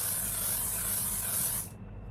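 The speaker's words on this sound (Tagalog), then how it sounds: "And last but not the least is setting spray." Makeup setting spray comes out in one continuous close-up hiss that lasts about a second and a half, then cuts off into quiet, with no talking.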